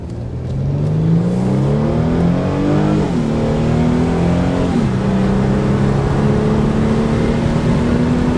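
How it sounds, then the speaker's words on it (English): A Mercedes C300 in sport mode with eco off accelerates hard up a road, its engine note rising loudly through gear changes in a smooth, continuous pull. "now I'm gonna put it in sport mode, take eco off, and we're gonna do a little ripperoonie up the road"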